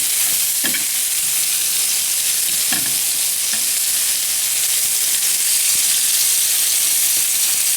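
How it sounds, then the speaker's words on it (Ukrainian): Peppers sizzle steadily in a hot pan of oil, a constant bright hiss with a few soft clinks of stirring now and then. "Сипемо перець і чекаємо, поки він підсмажиться"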